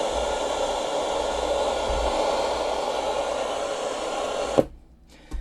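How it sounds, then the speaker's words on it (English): A Grundig Music Boy 208a radio hisses with steady, fairly loud static that cuts off abruptly with a click near the end, followed by near silence and another faint click. "So something here that sounds a bit like static"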